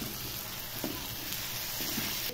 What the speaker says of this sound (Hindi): इन सभी चीज़ों को अच्छे से भून लेना है।